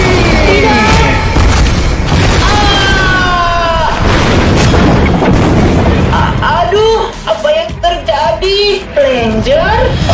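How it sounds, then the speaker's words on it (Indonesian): A cartoon explosion blasts loudly with deep booming bursts over a dense soundtrack, followed by quieter tonal cartoon effects, with no clear talk over the blast. "tempat ini akan meledak"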